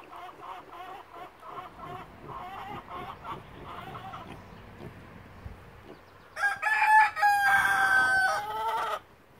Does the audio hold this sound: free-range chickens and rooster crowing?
yes